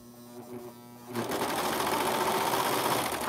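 A sewing machine stitches a knit neckband in the round, starting after a second of low hum and then running steadily and loudly to the end.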